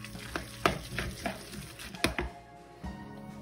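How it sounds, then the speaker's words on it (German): Homemade ravioli filling stirred in a pan, with repeated scraping strokes and light sizzling, close and steady, with no voice over it. "Jetzt rühren wir alles gut um."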